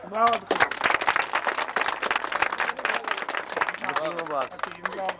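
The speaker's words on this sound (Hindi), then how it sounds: "उनके लिए भरपूर तालियां।" Audience at a 1991 outdoor fair stage drama applauding in dense, loud clapping that fills most of the moment, with a voice speaking briefly at the start and end.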